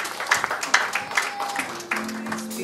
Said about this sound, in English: Clap your hands for the kids.